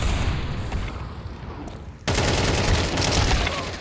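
Rapid AK rifle fire in a shooter game rattles out in a dense burst that grows sharply louder halfway through, with heavy, crackling shots close by.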